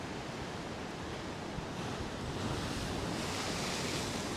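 Continuous roar of surf and sea waves at Santa Ponsa, Mallorca, mixed with strong wind noise, broad and steady throughout, with no voices.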